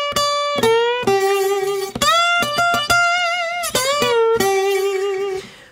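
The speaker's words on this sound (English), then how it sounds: "that goes the same for when I'm playing single notes, which I'll play up on the tip of the slide here" Single notes on slide guitar, picked and played with the tip of the slide, sound alone as a string of clear sliding pitches with vibrato and gliding bends between notes, several plucks over a few seconds.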